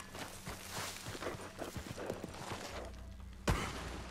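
A horse in the game Red Dead Redemption II walks with steady, soft clip-clop hoofbeats at close range, and a sharp knock lands near the end.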